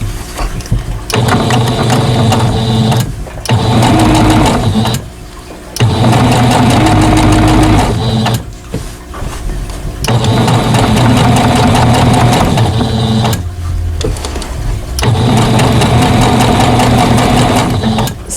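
A sewing machine runs in long steady bursts while stitching a quilt border with a long stitch, its loud, close mechanical hum and rapid needle rhythm stopping briefly between runs.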